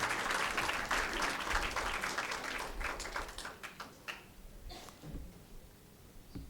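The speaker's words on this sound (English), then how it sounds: "So let's give him another round of applause." An audience at a medical equipment donation ceremony in Namibia applauds warmly. The clapping starts full and then thins out into scattered individual claps before dying away.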